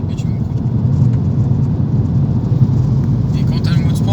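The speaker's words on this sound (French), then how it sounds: "tu entends vraiment bien le bruit des pneus qui accrochent sur le bitume" Steady roar of tires gripping asphalt, heard from inside a moving Volkswagen Golf GTD, continuous and fairly loud throughout.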